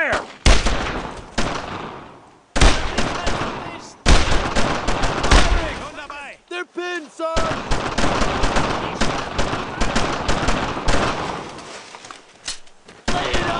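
Sustained battlefield gunfire in Brothers in Arms: Road to Hill 30, loud rifle and machine-gun bursts crackling almost continuously with a short lull midway, soldiers shouting over the shooting.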